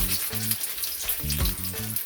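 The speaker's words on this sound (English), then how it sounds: "Cooking it, frying it slowly, and pricking it." Jamaican saltfish fritters frying slowly in a pan of oil, giving a close, steady sizzle and crackle with no talking.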